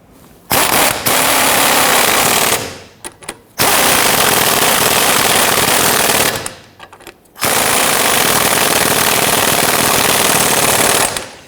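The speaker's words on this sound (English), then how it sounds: "We'll tighten these in, securing that ball joint to the control arm." An impact wrench hammers on the ball joint nuts of a 1992-1996 Toyota Camry front lower control arm, three loud sustained rattling bursts separated by short pauses.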